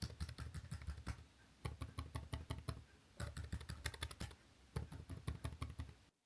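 Typing on the Acer Chromebook 315 laptop keyboard, quiet soft tactile keys clicked in quick bursts of rapid taps separated by brief pauses, close and alone.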